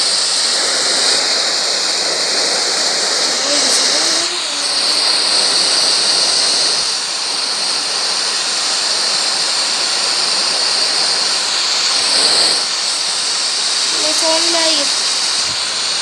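A continuous waterfall roar in a video game set in Antarctica, steady and loud throughout, with faint in-game tones briefly rising over it.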